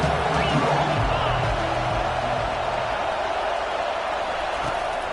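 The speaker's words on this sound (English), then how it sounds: "And how nice is it to have the home crowd going absolutely bananas?" Home crowd roaring at a Texas college football game, a dense, steady wall of cheering that stays loud and constant throughout with no breaks.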